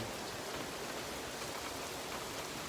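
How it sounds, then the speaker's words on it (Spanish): Heavy rain pours during a tornado storm in Alabama at night, a dense, steady hiss of rainfall with no breaks, fairly faint and without voices. "está lloviendo muy fuerte"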